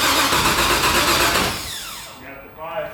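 An LS V8 swapped into a Mazda Miata with a dry-sump setup cranks and fires for its first start, a loud dense roar that settles into a rougher, quieter idle with some voices nearby.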